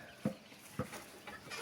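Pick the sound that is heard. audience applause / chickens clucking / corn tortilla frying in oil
chickens clucking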